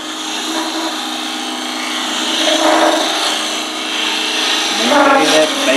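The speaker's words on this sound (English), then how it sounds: "Riding the bevel, slowly come around until it starts cutting." A woodturning gouge cuts into a spinning wooden workpiece on a lathe, giving a steady broadband scraping hiss that swells midway and ends in a louder, rougher burst near the close.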